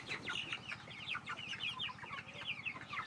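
A flock of native chickens forages around houses and fields, giving steady close clucking and chattering calls over a constant low rhythmic murmur, with no talk.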